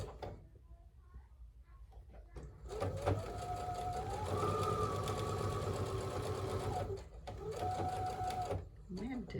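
A sewing machine stitching steadily for several seconds with a small pause, its motor whirring loud and close in a quiet room, ahead of an overdue service.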